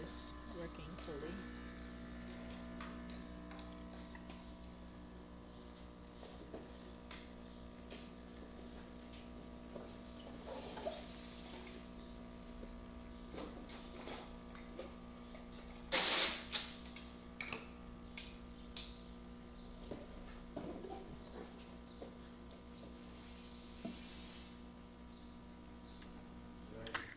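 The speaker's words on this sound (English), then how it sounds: "Then I'll just brew a shot just to show you that the machine is working fully." A Bezzera BZ13 espresso machine, freshly serviced, brews a shot with a steady droning pump hum, soft ticking and clicks, and one brief loud knock midway.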